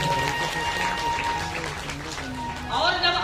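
An audience at a Shiv Mahapuran religious discourse breaks into a burst of clapping, blended with a voice speaking over it.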